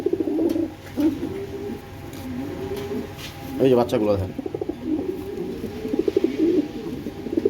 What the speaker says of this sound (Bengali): দেখার মতো এক পেয়ার কবুতর, সেরকম সাইজ